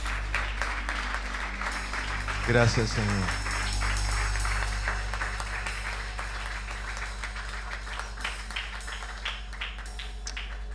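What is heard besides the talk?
church congregation applause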